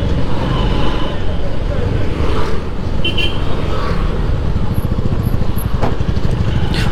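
Honda Shine 125 motorcycle riding over a speed breaker on a road, a steady engine drone with road rumble and wind, passing traffic nearby and a rider speaking over it.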